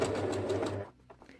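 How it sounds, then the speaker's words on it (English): Sewing machine stitching a vinyl or leather key fob with a quarter- to eighth-inch seam allowance, a steady close mechanical whir for under a second, then stopping, followed by a few faint handling clicks and a brief knock. "So let's get started with the sewing."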